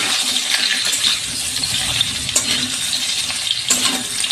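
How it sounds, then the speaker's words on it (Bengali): Mango pieces fry in hot oil with panch phoron spices for a sweet jaggery mango preserve, giving a steady broadband sizzle with occasional light stirring clinks, close and moderately loud with no talking. "একটু আমগুলো পাঁচফোড়নের সঙ্গে ভেজে নেব।"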